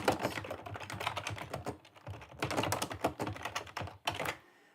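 Rapid, continuous clatter of computer keys being typed, close and fairly loud, with brief pauses between bursts and no voices.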